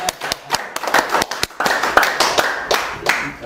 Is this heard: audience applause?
yes